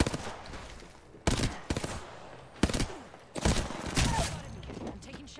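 Gunfire in Apex Legends comes as several loud, close bursts of rapid shots separated by short gaps, over a busy game soundscape.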